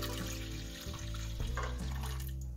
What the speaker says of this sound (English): So now we're gonna pour the milk into the bowl just like this.